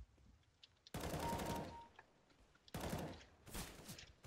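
Loud gunfire from a Desert Eagle pistol in Counter-Strike: Global Offensive, arriving in three dense bursts separated by quiet stretches.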